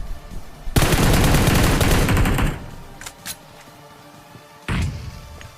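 Bursts of automatic gunfire in an online shooter game: a long, loud volley of rapid shots for about two seconds, a few isolated cracks, then a shorter burst near the end.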